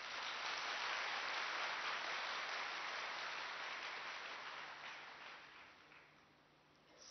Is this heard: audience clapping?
yes